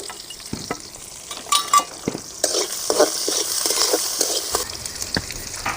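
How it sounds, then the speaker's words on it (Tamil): Mustard, cumin and fennel seeds spluttering and popping in hot oil in a pan while being stirred for a traditional Tamil avarakkai peanut kootu, a steady sizzle with sharp crackles, close and continuous. "கடுகு ஜீரகம் பெருஞ்சீரகம் பொரிஞ்சுக்கிடுச்சு"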